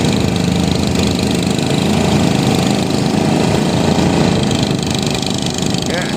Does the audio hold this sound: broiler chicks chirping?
no